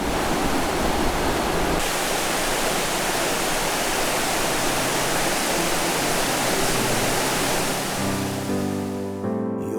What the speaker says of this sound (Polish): przemierzając tą dżunglę trafiliśmy na kolejny wodospad